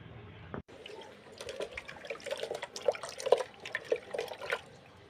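Jackfruit seeds are rinsed and drained in water, with irregular splashes, trickles and drips close by, louder bursts coming in quick clusters after a brief quiet start.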